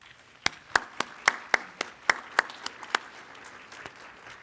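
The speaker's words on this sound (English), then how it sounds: "Let's give them a big round of applause." Sparse, distinct handclaps from a commencement audience celebrating a graduating class, about ten separate sharp claps spread over a few seconds, moderately near and without talk.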